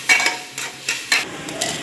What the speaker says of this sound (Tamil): சேர்த்துட்டு இதெல்லாம் நல்லா வதக்கணும்.